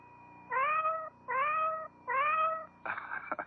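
A cat meows three times in a regular rhythm, each meow long, clear and close, followed by a shorter, rougher cry.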